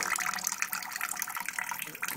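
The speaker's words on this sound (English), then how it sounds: "There it is, collecting into the, into the kettle." Home-brewed wort for a Tex-Mex pilsner runs steadily into the brew kettle, a continuous close splashing pour with faint voices in the background.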